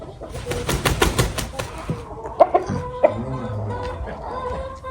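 Chickens of a Korean breed, including a rooster, cluck in a few short, close bursts over a scratchy yard background, with a louder flurry early on and scattered single clucks afterwards.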